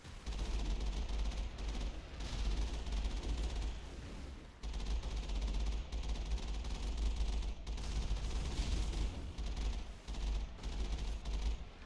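An MG machine gun fires in a sci-fi shooter video game against alien enemies, sustained loud automatic bursts with brief gaps, layered with dense in-game combat noise and deep rumbling impacts throughout.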